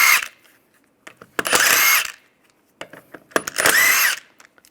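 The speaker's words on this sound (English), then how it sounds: "Then using the same 17mm, we're going to take off the lug bolts." An impact gun with a 17mm socket zips off lug bolts from a 1998-2010 Volkswagen Beetle wheel in two loud, close bursts, each about half a second to a second long, separated by quiet clicks and clinks of handling.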